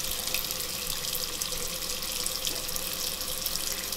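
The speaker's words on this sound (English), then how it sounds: "I'm going to go ahead and rinse it, and I'm going to start cleaning it" Running tap water pours steadily into a sink while a Sigma E55 makeup brush is rinsed, a continuous close hiss and splash with no voices.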